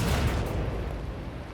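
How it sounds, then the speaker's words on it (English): A gunshot rings out in the Persona 3 Reload video game: a loud broadband blast at the start that decays into a rumbling tail over about a second and a half, with no talking. "Was that a gunshot?"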